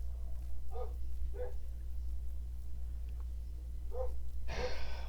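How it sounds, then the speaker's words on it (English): A dog barks three separate times, somewhat distant, over a steady low hum indoors, followed by a burst of broadband rustle or breath noise. "as the dog frickin' barks"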